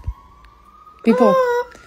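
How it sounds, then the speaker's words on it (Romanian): A wailing siren rises and falls briefly after a faint steady tone, sounding moderately close and heard on its own. "Auzi, vine ambulanța."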